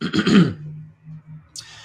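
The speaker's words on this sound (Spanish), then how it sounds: "Tengo un poco de tos, perdón." A single rough cough bursts out near the start, followed by a brief low throaty rumble and a faint breathy sound.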